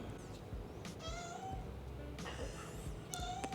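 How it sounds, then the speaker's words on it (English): A pet cat meows in a home kitchen, a few thin, rising meows repeated close by amid low rumbling background noise, with no talking. "that's my cat in the background that I did not even notice that she's behind me."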